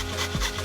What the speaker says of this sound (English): try to grate the garlic on the smaller side